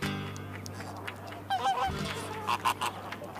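Chilean flamingos calling at a salt lake in the Atacama Desert: a few short nasal honks around the middle and end of the clip, moderately close, over a steady low background hum with no talking.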